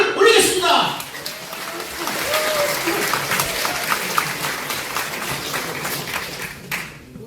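A crowd bursts into loud, sustained clapping to open a saxophone concert at a book-launch celebration for former four-term lawmaker Lee Kyu-taek, with the applause strongest at the start and then holding steady before cutting off.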